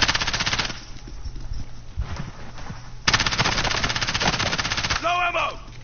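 Rapid automatic rifle fire in Call of Duty Modern Warfare, long continuous bursts of fast shots with a brief pause, loud and close, ending with a short game effect.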